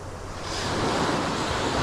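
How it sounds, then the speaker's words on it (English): Ocean surf washes onto a sandy beach, a broad rushing hiss swelling louder as a wave rolls in, with some wind buffeting the microphone and no voices. "hopefully you can take in the sound of the waves, the feeling of the sand, the smell of the salt"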